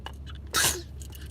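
A single sharp sneeze bursts out close by, loud against a quiet room, with faint murmuring before and after.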